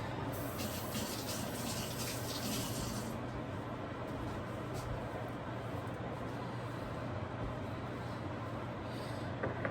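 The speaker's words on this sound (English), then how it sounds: "Rinse my hands off." Hands are rinsed under a running kitchen tap, making a continuous, even rush of water that stays steady and close for the whole stretch.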